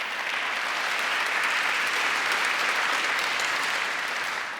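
Sustained round of applause from a conference audience, steady and dense throughout, filling the hall without pause or talk.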